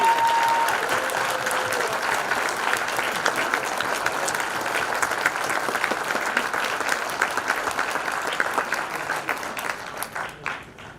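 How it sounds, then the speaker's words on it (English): A gala audience at a synagogue event, Congregation Israel of Springfield, applauds honored guests with loud, dense clapping that holds steady, then thins and fades toward the end. "So if I can ask them to stand up so we can give them applause to them"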